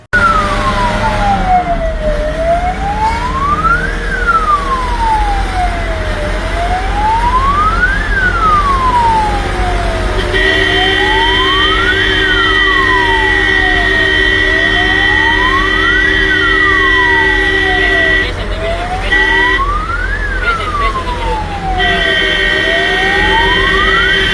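An ambulance siren on the road near BC Road wails loudly and continuously in rising and falling sweeps, with a second steady electronic tone joining partway through. No voices can be heard.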